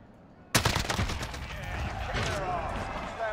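Gunfire in Call of Duty: Warzone erupts suddenly as a loud, close burst of rapid automatic shots, then continues as quieter sustained firing amid game noise.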